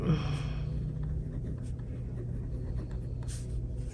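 Pen on paper as an August monthly budget is written out by hand: a steady, close scratching that runs without pause for the whole stretch, with no talk over it.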